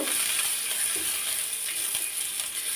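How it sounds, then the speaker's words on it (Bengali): Chopped onions sizzle steadily in hot oil in a pan, a close, continuous hiss with faint stirring and no speech. "এখানে আমি কিন্তু পেঁয়াজ কুচিগুলো দিয়ে দিব পেঁয়াজ কচিটাও কিন্তু আমি বেশি সময় নিয়ে ভাজি করবো না"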